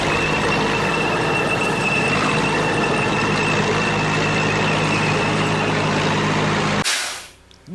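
A vehicle engine idles in a video game, a steady loud rumble with a truck-like drone that holds unbroken for about seven seconds, then cuts off abruptly into near silence.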